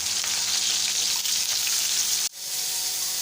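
Mutton chapli kabab sizzling in a pan of hot oil, a steady loud frying hiss that runs continuously, briefly dips near the end, then carries on.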